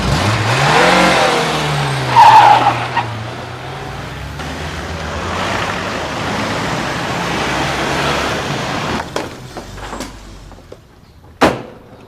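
A car in a French police drama pulls away and accelerates, its engine note climbing steadily, with a couple of sharp door-like clunks and knocks near the end.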